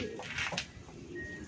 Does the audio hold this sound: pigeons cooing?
yes